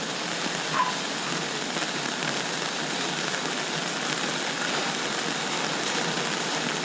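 Heavy monsoon rain pours steadily during flooding in a residential block, a dense, even hiss of water that stays loud and unbroken throughout with no voices.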